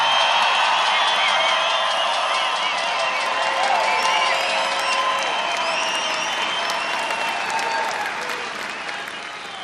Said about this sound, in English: I think we all should give them a tremendous round of applause.